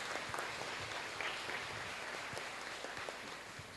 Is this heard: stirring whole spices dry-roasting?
no